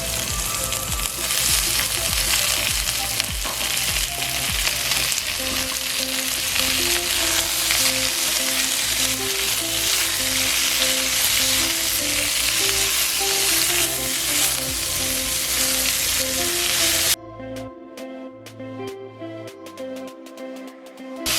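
Pork frying in a pan with garlic and onion gives a loud, continuous sizzle and hiss with occasional stirring scrapes. Background music plays throughout, and the frying drops away near the end, leaving the music alone.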